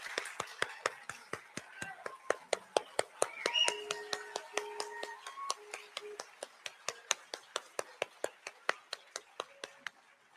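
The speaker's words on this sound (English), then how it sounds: "let's give a round of applause to the Maryland Symphony Orchestra" Concert audience claps after a Maryland Symphony Orchestra performance, sharp individual claps that are close and distinct, coming in steady succession over about ten seconds with faint voices underneath.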